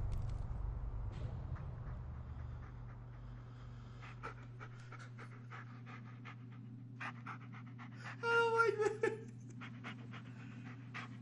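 Bullet, a dog in the horror video game Blair Witch, pants with quick, steady breaths throughout, close and fairly loud, with a brief burst of other game noise near the end.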